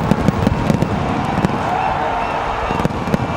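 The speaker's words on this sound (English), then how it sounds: "Fireworks are off. They're banging away here, up in the sky, down on the ground." Fireworks burst overhead and crackle at ground level during a street celebration of India's Cricket World Cup win, sharp bangs repeating irregularly over a dense, continuous crowd roar with faint voices in the mix.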